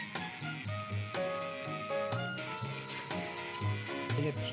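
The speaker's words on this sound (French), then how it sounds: "Le petit cri perçant du grillon," A cricket chirps in a loud, steady, rapid pulsing trill close by, running almost continuously over a background of music and low-pitched sounds.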